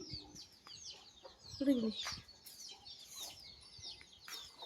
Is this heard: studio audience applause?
no